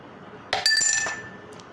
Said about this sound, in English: the coin falls in the glass